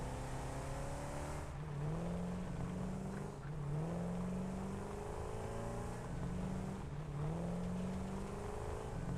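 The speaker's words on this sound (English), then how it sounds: "One of our tractors busily working." A tractor works in the factory game Satisfactory, its engine humming steadily with repeated rising and falling pitch sweeps as it revs and shifts. The engine stays close and prominent throughout, with no talk.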